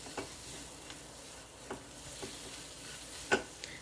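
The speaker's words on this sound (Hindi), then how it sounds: "पहले हरी मिर्च डालकर इसको अच्छे से मिक्स कर लेते हैं।" Green chillies are stirred into a mixture in a pan with a spoon scraping in several soft strokes over a faint, steady sizzle, close up and fairly quiet, with no one talking.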